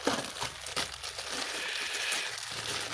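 Packaging from a LABISTS Raspberry Pi 4 Model B complete kit crinkles and rustles steadily for about three seconds, close up, with soft crunchy handling and no talking.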